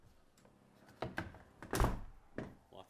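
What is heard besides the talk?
door being closed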